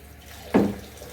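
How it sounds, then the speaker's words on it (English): Water pours briefly into a bowl of grated banana mixture for Jamaican banana dumplings, a single short splash that swells and fades within half a second against a quiet kitchen background. "going in now with some water, which if I had grated enough bananas"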